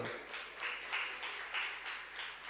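An audience claps at a Jain religious discourse. The applause is faint and distant, coming in a few rhythmic swells of many hands with no voices over it.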